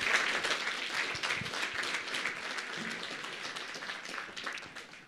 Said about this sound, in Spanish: por favor, vamos a dar fuertes aplausos